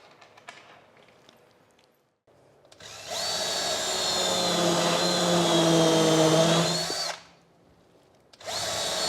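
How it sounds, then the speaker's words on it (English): A power drill drives screws through wood into MDF on a table-saw router table build, its steady whirring motor holding for about four seconds after quieter handling noises, then starting again at the end. "I'm going in with a larger diameter, and I'm just screwing through the wood"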